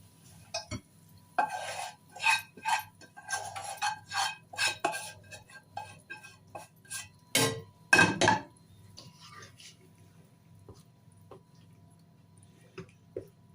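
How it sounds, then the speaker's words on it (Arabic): Fried garlic tasha is poured and stirred into cooked yellow lentils in a kitchen, giving a series of clinks, scrapes and spoon taps on a pot or plate. The sounds come in irregular bursts and then fade to quiet. "بعد كده هنزل بالطشة على العدس بتاعنا"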